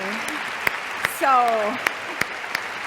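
Audience applause at a live interview event with two guests: a steady wash of clapping runs throughout, with a voice speaking over it partway through.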